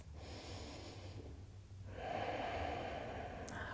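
Deep, audible yoga breaths during a vinyasa flow, a long airy inhale followed by a stronger, fuller exhale, close and fairly quiet with no talking.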